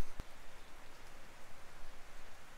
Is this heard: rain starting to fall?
yes